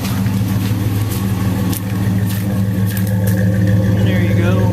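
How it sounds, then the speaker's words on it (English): A 1999 Dodge Ram 1500 Quad Cab pickup idles close up through a Flowmaster single-in, dual-outlet exhaust with a Dynomax catalytic converter, giving a steady, deep, throbbing rumble with a slight swell partway through. "Basically running a Dynamax slow catalytic converter and Flowmaster exhaust."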